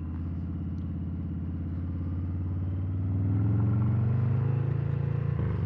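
A 2020 Harley-Davidson Fat Bob rumbles steadily at slow riding speed with a pulsing low exhaust note, near and loud, swelling slightly partway through.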